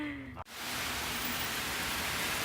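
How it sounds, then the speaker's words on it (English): Steady, loud rain drums on the roof of a van during a heavy downpour, a continuous broadband hiss that swells in after a brief dip near the start. "Looks like we might have some more heavy rain rolling in"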